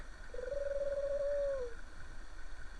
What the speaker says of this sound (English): It's a pigeon that fell asleep.